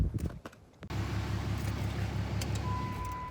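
A Cummins diesel pickup truck engine idling after starting, a steady low rumble with a rhythmic throb that runs near and continuous through the clip, following a brief clatter at the start.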